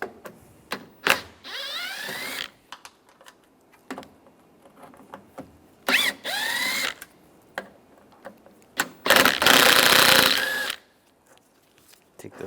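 A power tool with a T30 socket backs three screws out of a door latch on a Chevrolet Silverado, giving several short whirring bursts separated by pauses, with a longer final burst.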